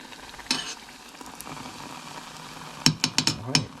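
Samoan panikeke fry in hot oil in a copper pot, a soft continuous sizzle punctuated by a knock early on and a quick run of sharp metallic clinks near the end, with no voices.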